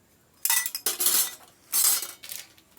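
New steel serving spoons from a utensil set handled and jostled, several bright metallic clinks and rattles in short bursts, close and fairly loud with quiet gaps between.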